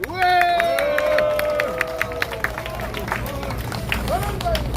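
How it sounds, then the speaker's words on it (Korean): Crowd clapping at an outdoor press conference by a Korean civic security group, a sustained round of applause with scattered claps and background voices murmuring throughout. "박수 일단 한번 치시고"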